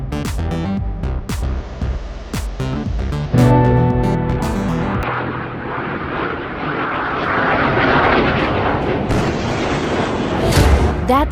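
Sharp booming cracks from a supersonic military aircraft open the sequence, followed by a loud, sustained roar of jet engine noise that swells and lingers to the end.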